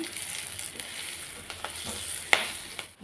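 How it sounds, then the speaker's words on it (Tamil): Baby potatoes fry in coconut oil with curry leaves, a soft steady sizzle broken by a few quiet stirring clinks and one sharper scrape near the end. "தேங்காய் எண்ணெய் சேர்த்துட்டு இந்த கருவேப்பிலை வேகிறதுக்கு ஒரு ரெண்டு நிமிஷம் மூடி போட்டுருவோம்"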